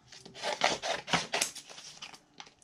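Scissors snip and rasp through cardstock while trimming out a paper craft piece, a close run of crisp cutting strokes in quick succession.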